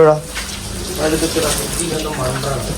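Water from washing a scooter splashes and runs steadily close by while voices murmur over it.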